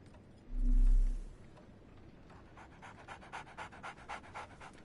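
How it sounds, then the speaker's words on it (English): A dog pants in a Sherlock Holmes video game: quick, rhythmic breaths that get louder in the second half, after a low synthetic tone at the start. "So, Barnes has a dog now."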